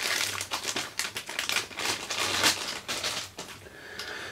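Plastic packaging bags from an unboxed Kamen Rider DX Birth Driver toy belt crinkle and rustle continuously up close, in uneven bursts with no talking.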